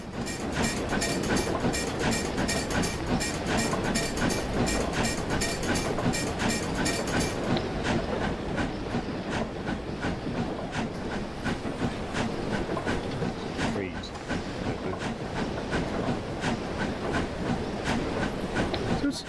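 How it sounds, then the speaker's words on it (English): Train in Train Simulator's Brockenbahn rumbling along with rapid metallic clanking and clicking, steady and fairly loud throughout, the clatter thinning out after the first third. "sounds like a reverser clanking."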